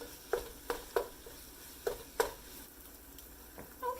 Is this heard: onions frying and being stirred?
yes